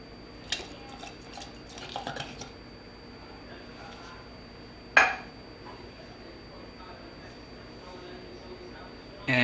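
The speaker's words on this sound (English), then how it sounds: "to a saucepan, we're going to add our tomato sauce. Along with our no bean chili." Pots and a saucepan clink and clatter as tomato sauce and no-bean chili go in, light metallic taps early on and a sharper clank midway, while someone talks throughout.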